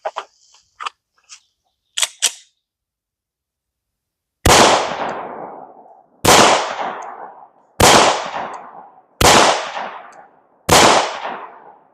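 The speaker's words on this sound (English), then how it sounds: "First 5 rounds, testing out the Buffalo Boar 220 grain hard cast." Five loud, sharp gunshots from a Glock 20 Gen 5 pistol firing Buffalo Bore 220 grain hard cast rounds, spaced about 1.5 seconds apart, each with a decaying outdoor echo, preceded by a few small clicks.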